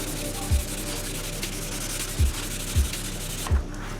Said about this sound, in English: Now I'm making sure to sand more outside of the region where the dent was